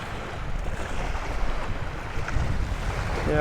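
Choppy lake water slaps against a small boat under gusty wind, the waves and buffeting wind noise continuing throughout at a fairly strong, close level, with no talking.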